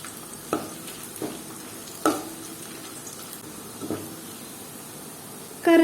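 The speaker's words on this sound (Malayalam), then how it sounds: "ഇനി നമുക്കിതിലേക്ക് ഒരു 5 വറ്റൽമുളക് ഇട്ട് കൊടുക്കാം കേട്ടോ." Dried red chillies fry in hot oil with onions, giving a steady close sizzle broken by a few stirring scrapes and a short clatter at the end.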